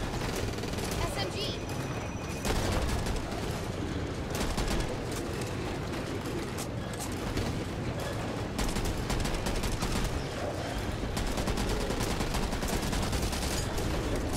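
Rapid SMG gunfire in the zombie shooter Back 4 Blood, on a Nightmare solo run, loud and sustained throughout amid dense combat noise, with voices talking over it.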